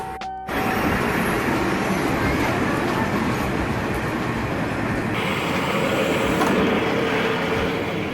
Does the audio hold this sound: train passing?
yes